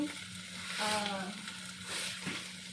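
Onions fry softly in a pan, a faint, even sizzle running throughout, with a brief murmur of voice partway through.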